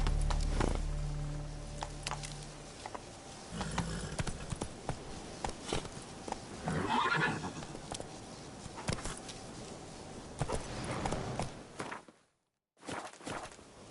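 A horse in The Witcher 3 game gallops with a continuous drumming of hooves, moderately loud, ending in a brief dropout near the close.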